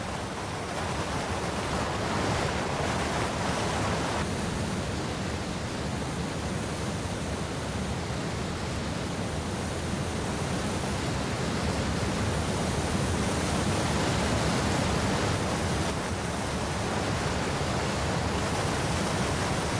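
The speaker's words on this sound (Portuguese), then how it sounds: "transformando-se em cachoeiras e córregos torrenciais" Waterfalls and torrential streams fed by melting glaciers in the Andes of Ecuador, a dense, steady roar of rushing water that fills the whole clip with broad hiss, close and unbroken, no voices.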